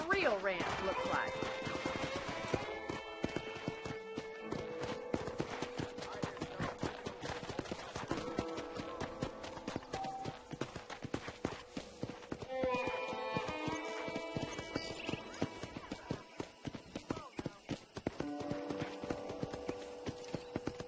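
Horse hooves clip-clopping at a riding pace in the Western video game Red Dead Redemption, a steady rhythmic beat running throughout under in-game music and occasional talk, with a brief whinny and distant gunfire.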